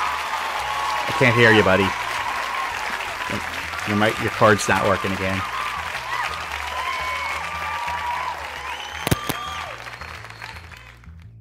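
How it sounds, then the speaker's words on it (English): An audience applauds and cheers for a guest at an evening show, with clapping rising in bursts beneath a man's speech and other voices talking over the crowd noise. "give a nice round of applause"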